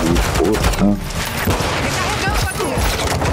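Automatic gunfire from the video game Call of Duty Warzone 2.0 rattles in loud continuous bursts, mixed with game sounds while players talk over it.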